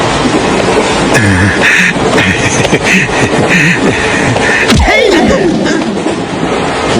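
A train rolls along with a continuous rumble and rattle of carriages, a sharp squeal sweeping down partway through, and faint voices in the background.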